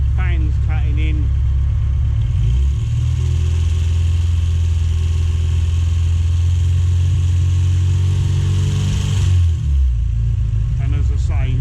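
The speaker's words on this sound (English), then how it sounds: "Fans cutting in." Classic Mini engine running steadily, its continuous mid-low drone joined by a rising whir as the radiator cooling fans cut in, then settling near the end; close and fairly loud throughout.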